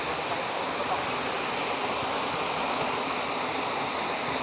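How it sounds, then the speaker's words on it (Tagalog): Talon ng Leon waterfall in Barangay Lucsuhin, Silang, Cavite roars with a steady, dense rush of falling water that stays even and unbroken throughout. "Ito ngayon yung Talon ng Leon."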